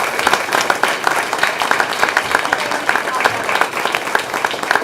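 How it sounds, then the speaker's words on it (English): Applause at a Board of Education meeting, a dense, even patter of many hands clapping at moderate distance, sustained throughout without a break. "Another round of applause"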